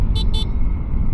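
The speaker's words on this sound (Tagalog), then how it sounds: "ang cute ng kanyang busina para sa ang laking motoran" Two short, bright beeps from the horn of a Honda ADV 350 scooter sound close and clear over a low, steady engine rumble.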